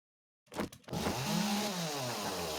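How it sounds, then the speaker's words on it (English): A chainsaw in a video game smashes wooden boxes: a couple of sharp cracks of breaking crates, then a loud, continuous revving buzz that wavers in pitch and holds steady to the end. "I gotta be careful because my chainsaw is a little OP on everything. So I end up breaking these boxes sometimes."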